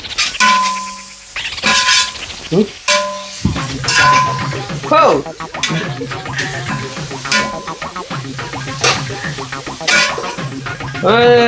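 Spoon scraping and clanking against a cooking pan as food is stirred, with irregular metallic clinks and scrapes throughout, some rattling of dishes and a faint sizzle underneath, loud and close.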